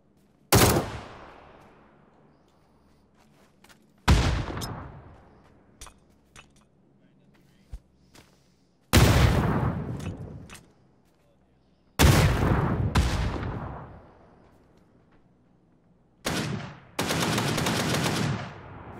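Loud bursts of automatic gunfire in an Xbox shooter game erupt in five separate volleys, each sharp onset decaying over a second or two, with quieter pops and clinks between and a sustained final burst.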